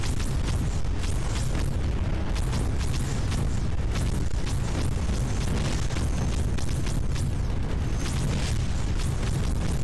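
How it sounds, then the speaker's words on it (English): Bombing in the Creeper World 4 video game produces loud, dense explosions in rapid succession, a continuous barrage of booms and sharp bursts that fills the whole stretch without pause. "So with that kind of bombing underway"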